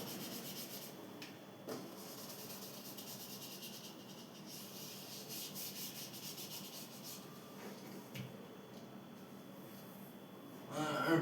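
Writing is rubbed off a classroom board with a steady, scratchy back-and-forth wiping that carries on for several seconds, close and fairly quiet, ending in a brief louder rub.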